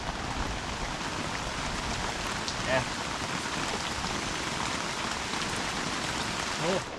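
Steady rain falling outdoors, a dense continuous patter on surfaces that stays even throughout, with two faint brief voice sounds heard over it.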